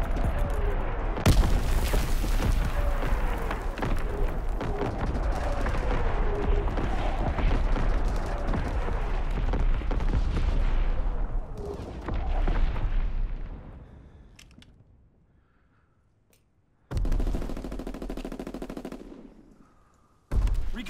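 Artillery strike explosions in a Call of Duty: WWII free-for-all match, a dense barrage of loud booms and rapid gunfire running continuously, fading out, then bursting again near the end.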